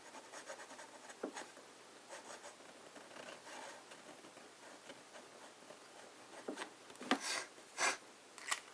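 Fine-nib fountain pen inked with Montblanc Winter Glow scratching across paper, quiet intermittent strokes that grow into a few louder scrapes near the end.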